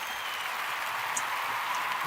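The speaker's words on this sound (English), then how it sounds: "Let's get a round of applause of that" Applause during a live show, a dense, even wash of clapping and cheering held steadily throughout, a little distant.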